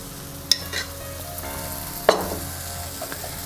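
Gentle sizzle of a banana wheat-flour pancake frying in ghee on a pan over a low flame, with two sharp clinks of a utensil against the pan standing out above the quiet steady frying.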